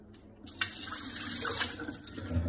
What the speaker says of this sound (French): Là, c'est ouvert, je vais verser l'eau.